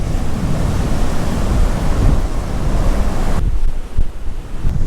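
Hurricane wind roaring across a flooded Florida beach at Lantana, loud and continuous with heavy buffeting on the microphone and surf churning beneath, easing somewhat near the end.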